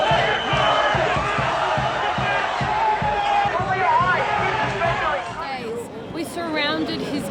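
A large crowd of adoring fans in chaotic scenes, a dense roar of shouting, cheering and whooping voices that stays loud and continuous throughout, with individual yells rising out of the babble near the end.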